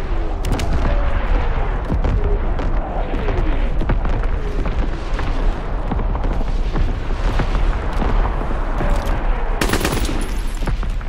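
Artillery battery firing in Call of Duty: WWII, a steady, dense barrage of booms and blasts running the whole way through at high loudness, with a sharper burst near the end.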